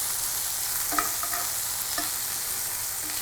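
Lion's mane mushroom steaks sizzle steadily in oil in a pan, a broad continuous hiss with a few light clicks and taps of a utensil near the start and middle.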